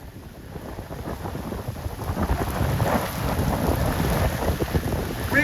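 A thunderstorm over Lake Powell brings heavy rain pounding down with low rumbling thunder and wind buffeting, building from moderate to a loud, dense roar that stays strong to the end.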